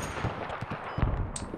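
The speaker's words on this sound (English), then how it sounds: "The Havoc is shooting at a cluster of troops" A Havoc attack helicopter fires on a cluster of troops in the video game Squad, a rapid string of distant, thudding gunshots with irregular spacing, muffled and moderately loud, without talk.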